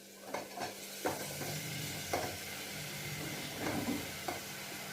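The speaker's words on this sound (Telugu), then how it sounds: "పొట్లకాయ ముక్కలు వేసుకున్నాం." Snake gourd pieces fry with a quiet, steady sizzle while a utensil stirs them and knocks against the pan about once per second. Nobody talks.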